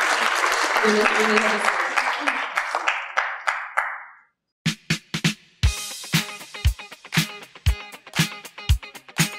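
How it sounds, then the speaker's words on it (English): An audience at a business hall of fame induction ceremony gives a loud round of applause for laureates that fades away into a brief silence, followed by sharp knocks and speech. "I think we can give them a round of applause while they just take their seats."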